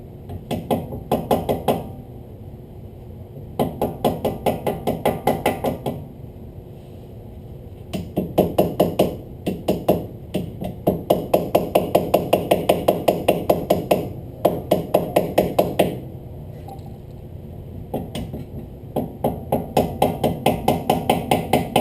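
Metal hammer striking a car brake rotor on a Lexus IS F during a DIY brake job, loud and close, in rapid bursts of ringing blows separated by short pauses, no talking.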